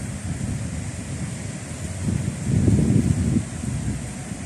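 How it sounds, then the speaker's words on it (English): Pacific Ocean surf and wind rolling in a steady low roar, swelling into a louder wave surge midway before easing, with wind buffeting the microphone and no voices. "this is the Pacific Ocean"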